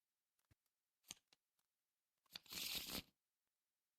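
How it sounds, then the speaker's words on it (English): Arkham Horror LCG cards being shuffled back into a deck, a few soft isolated card taps and flicks, then one brisk riffle of about a second, close and quiet, with no voices. "these need to get all shuffled back in"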